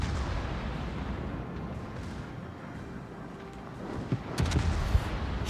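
Naval artillery shells fired and landing in a competitive warship video game match, a low continuous rumble of guns giving way to a cluster of sharper booms and impacts near the end.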